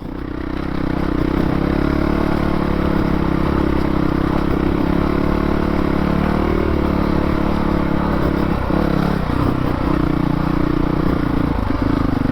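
A 2019 Honda CRF450L rides off-road at Shasta Chappie OHV, its engine a loud, continuous close-up drone with small throttle rises and dips and some rattling, with no voices.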